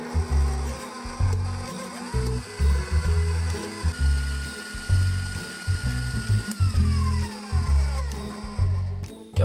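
Electric mixer whirring through soft butter and sugar for a frangipane filling, a steady mechanical drone with rhythmic low churning pulses as the beaters turn, close and fairly loud, no voices.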